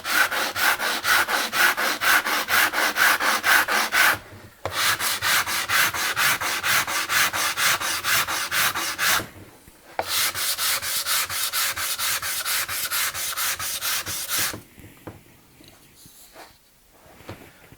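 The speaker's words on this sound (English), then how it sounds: "this sanding station utilises the full weight of the workbench, and that makes sanding a lot quicker" Wood being sanded on an MFT sanding station built into a workbench. Rhythmic, close back-and-forth rubbing comes in three long bursts, with short pauses between them, then fades to quieter scattered scrapes.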